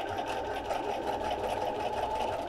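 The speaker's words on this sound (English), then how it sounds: "I'm going to sew right along this seam all the way around." A sewing machine stitching along a fabric seam with an open-toed foot, a steady close mechanical whir running continuously.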